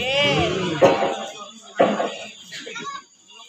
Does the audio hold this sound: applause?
no